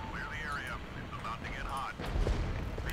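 Artillery fire in the strategy game Regiments, heavy distant booms rolling under a busy battlefield din, with a louder burst near the end amid whistling tones.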